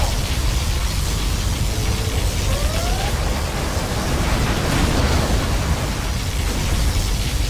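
A particle cannon blast in the video game Command & Conquer Generals Zero Hour, a sustained loud roaring rush of broadband noise like a continuous explosion or heavy wind, holding steady throughout with no speech.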